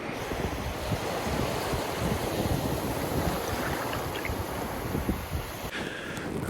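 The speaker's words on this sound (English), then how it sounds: "this gully's just started really flying in. The water's flying in. I don't know if you can hear that. It's like a stream now." Tidal water rushes steadily into a gully on a winter beach, a continuous loud roar of surf mixed with heavy wind buffeting the microphone throughout.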